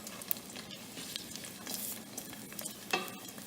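Garlic frying in olive oil in a tipped pan, a lively close crackling sizzle with soft stirring scrapes and a few bright spatters.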